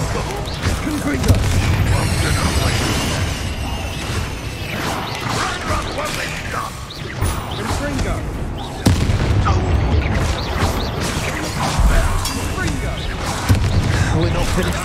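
Blasts and crashes of fiery spell combat in the fantasy game Hogwarts Legacy, with an explosive Confringo cast among heavy booms and whooshes, loud and continuous, a sharp impact near the middle.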